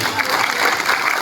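Audience applause at a Hindi comedy poetry gathering, a dense, steady wash of many hands clapping at once that holds at even loudness from start to finish.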